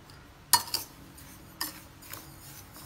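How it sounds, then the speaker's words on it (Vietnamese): A spoon clinks against a dry bowl while agar jelly powder is mixed with sugar, giving a sharp first tap followed by a few softer scraping clicks, close and alone. "Trộn cho đều lên"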